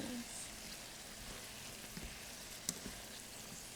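Vegetables frying in a pan while being stirred, a quiet steady sizzle with faint scraping, a couple of brief clinks, and no clear speech.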